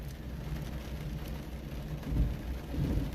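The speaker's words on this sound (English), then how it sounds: "Can you all hear the rain a bit?" Steady rain falling in Port Adelaide near the Birkenhead Bridge, a continuous wash of patter with low rumbling swells, heard alone without voices.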